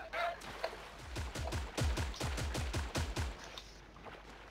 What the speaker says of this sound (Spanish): Tiros.